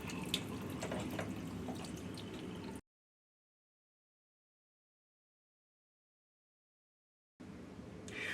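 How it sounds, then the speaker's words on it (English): Water rushing through an open shower valve stop while the valve rough-in is flushed, a steady hiss of flow for a few seconds, then a long gap of silence before the flow resumes. "To flush the valve, cover the cartridge openings and open each stop approximately 20 seconds each to"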